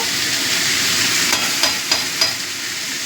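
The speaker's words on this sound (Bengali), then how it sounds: "এবার এটাকে একটু ভাজা ভাজা করে নেব।" Onions and potatoes sizzle in a pan under a steady hiss, with a few scraping stirs near the end.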